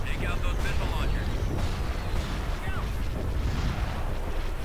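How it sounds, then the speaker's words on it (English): Explosions from a bombing run in the Star Wars: Empire at War video game form a dense, loud, continuous rumble of booms and blasts, with voices speaking over the barrage throughout. "That was actually a really good bombing run."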